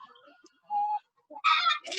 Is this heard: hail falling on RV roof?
no